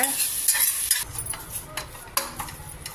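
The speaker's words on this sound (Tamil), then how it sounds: "இப்போ வெங்காயம் தக்காளி நல்லா வதங்கி கொஞ்சம் நல்லா ஸ்மாஷும் ஆயிருக்கு" Tomatoes and onions sautéing in a pan with a little oil and salt for a mushroom gravy, with a close, steady sizzle broken by several sharp scraping bursts as the mixture is stirred.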